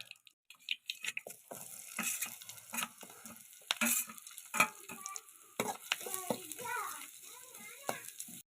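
Coconut, garlic and chopped shallots fry in coconut oil with a steady crackling sizzle, punctuated by stirring scrapes and clinks; a voice sounds intermittently in the background.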